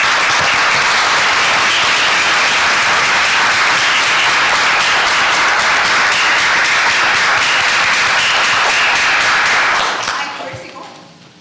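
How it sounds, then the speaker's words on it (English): A committee meeting room fills with loud, sustained applause from the audience, dense clapping holding steady before fading out near the end. "give you another round of applause for the work you've done"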